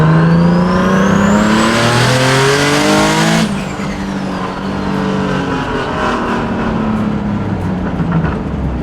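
A turbocharged car with twin wastegates accelerates hard on 91 fuel, engine pitch climbing loudly through the revs, then dropping after a sharp release as the car keeps driving on.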